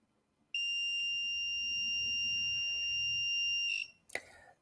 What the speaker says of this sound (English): That noise you heard there was because I touched the metal